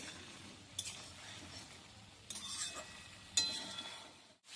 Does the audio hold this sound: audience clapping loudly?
no